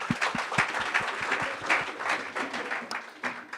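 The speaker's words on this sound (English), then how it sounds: "A round of applause for her." An audience gives a steady round of applause at a commemorative event honouring those who fought for others' lives, with dense clapping and a few sharper claps standing out, heard close and fairly loud throughout.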